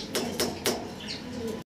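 A pigeon sounds close by, giving three soft, low coos in a slow, even rhythm, followed by a faint chirp. No speech is heard.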